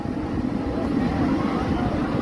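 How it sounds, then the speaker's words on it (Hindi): An airplane passes over Juhu beach in Mumbai, a steady, loud, broad engine roar that holds evenly throughout without clear peaks. "प्लेन जाता हुआ यहाँ पे"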